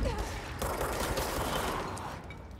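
Dense, continuous gunfire from the video game Control pours out in rapid automatic bursts, loud and close, with a brief dip before the firing resumes at full intensity.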